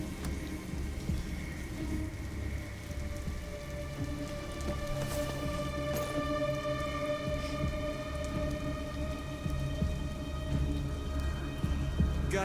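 Steady rain with rolling thunder during a storm in the video game Detroit: Become Human, a continuous wash of rainfall with a few louder thunder swells, no talking.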